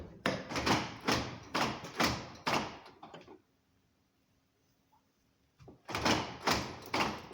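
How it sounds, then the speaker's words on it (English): Mazda 626 GF car door handled and opened during diagnosis of a lock fault: a run of loud, rhythmic clunks and rattles, then a quiet pause with a faint hum, then another burst of sharp knocks close by. "So this is when moving the door"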